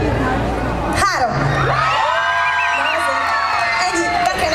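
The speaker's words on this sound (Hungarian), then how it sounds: "Számolok háromig, és aki szeretné, az visítson nagyon." A concert audience screams and cheers loudly in a sudden burst, with shrill whoops and cries that fill the space before tapering off, and a voice rising briefly above the crowd.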